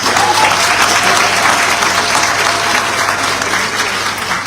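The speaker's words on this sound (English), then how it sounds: "So another round of applause, please." Loud, steady applause fills the hall at a university graduate recognition ceremony, a dense crowd clapping continuously without a break.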